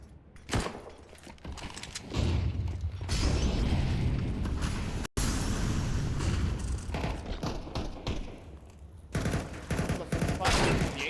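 Pistol gunfire in a Counter-Strike match on the Nuke map, sharp bursts of shots and clanking mechanical noise over a loud rumbling background, with a brief dropout midway.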